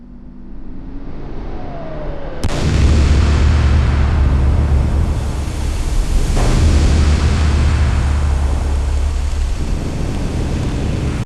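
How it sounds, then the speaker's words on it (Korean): A crashing spaceship in an AI-generated scene ends in a sudden loud explosion that bursts in after a brief whine, then a sustained heavy roaring rumble with a second surge midway, and no voices. "여러분 이렇게 폭발 효과 일어나는 것"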